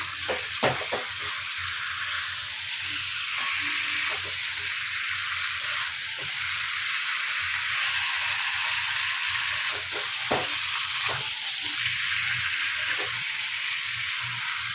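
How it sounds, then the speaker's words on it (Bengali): Chicken frying with garlic in a pan over a high flame, a steady close sizzle with occasional stirring scrapes running throughout, no talking. "এই রসুনের সঙ্গে ভালো করে ভেজে নিতে হবে।"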